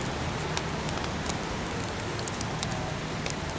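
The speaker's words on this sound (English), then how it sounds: "We never got rain on. That's what we get." Rain falls outdoors as a dense, steady hiss with scattered sharper drop ticks, fairly loud and unbroken, with no voices over it.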